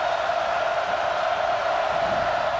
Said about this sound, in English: K-State crowd is roaring